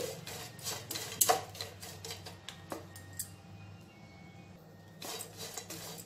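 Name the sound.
stirring dried fish frying in a pan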